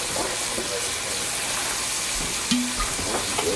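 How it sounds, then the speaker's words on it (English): Black chicken fries in hot oil with a steady, crackling sizzle that runs throughout at close range, broken by a few brief clinks and stirring sounds. "meanwhile my chicken is frying"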